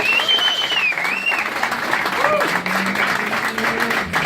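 Audience applause at a speech for the first birthday celebration of SSUK, honouring people who served in the armed forces; steady, dense clapping fills the whole stretch, with a little voice activity mixed in beneath it.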